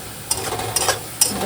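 Onion fries golden brown in a pan for a fenugreek curry, a loud close sizzle broken by three scraping stirs spaced roughly half a second apart.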